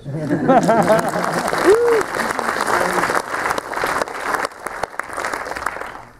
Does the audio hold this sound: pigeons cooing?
no